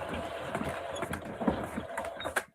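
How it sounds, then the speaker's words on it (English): Henry Hoover vacuum cleaner winding its cord up in a pub shed: steady close mechanical clattering with ratchet-like clicks and creaks, loud throughout and stopping with a final clunk. "our wonderful little smiley face Hoover, Henry, and he was winding his cord up"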